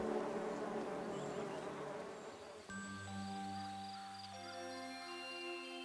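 Honey bees buzz steadily around a beehive, a dense close droning swarm, later joined by sustained tonal music notes.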